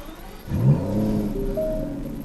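A 2017 Aston Martin DB11 engine firing up in GT mode, a quick starter whirr then a sharp rising bark that settles into a steady, moderately loud idle rumble.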